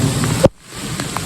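Steady rain falls outdoors in windy, wet weather, a close, even hiss with a short sharp knock and a brief dip to near silence midway.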